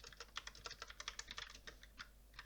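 Rapid, steady typing on a computer keyboard, with close, crisp key clicks in a quick continuous run over a faint low hum and no speech.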